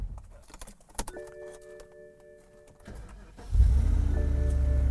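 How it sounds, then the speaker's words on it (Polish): A BMW 650i is started up after a few clicks and a short whirring crank, and its engine catches and settles into a loud, steady idle close by. "Ale jak to gada od razu przy zapaleniu pięknie."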